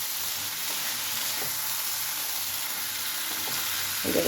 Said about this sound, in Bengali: এবার এটাকে ভালো করে কষবো, না আদা রসুন আছে তো, নাহলে কাঁচা গন্ধ ছাড়বে না ভালো করে কষলে।